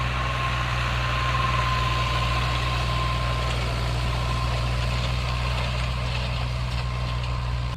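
A tractor engine idles steadily in a farm field readied for wheat sowing after rotavator work, a constant low diesel rumble with a faint whine, close and unbroken throughout.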